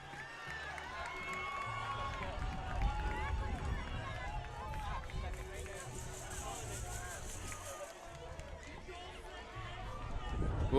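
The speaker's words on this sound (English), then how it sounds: "listen to this crowd here as they are pumped up for a Wildcat victory here" Boys' soccer crowd at a Weslaco East Wildcats victory over Weslaco High Panthers, a steady roar of cheering and excited chatter from many people, continuous and fairly loud with scattered shouts throughout.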